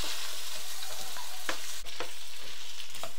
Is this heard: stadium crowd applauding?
no